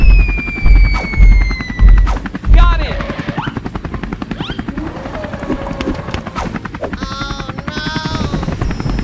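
Steady rotor chopping of a helicopter about to crash continues under excited voices, with a few heavy thumps at the start.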